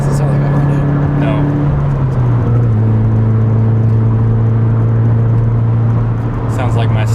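Subaru BRZ fitted with an aftermarket exhaust driving along, giving a steady, loud droning engine note whose pitch drops as it shifts, heard from inside the car with people talking over it.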